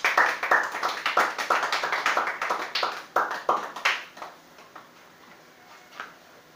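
A church congregation applauds during a worship service, with a burst of quick rhythmic claps that fades out after about four seconds, followed by a few scattered faint claps.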